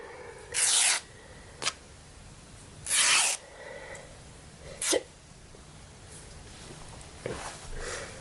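Cotton fabric torn by hand into strips about 1.5–2 centimetres wide after a small scissor snip, giving several short, bright ripping bursts at irregular intervals, close and fairly loud against a quiet room.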